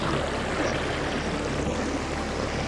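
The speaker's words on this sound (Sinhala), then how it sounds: "ගලාගෙන යන වතුර" Clear water flows steadily in a forest stream near an isolated village in the Knuckles range, Sri Lanka, as a continuous close rushing wash with no voices.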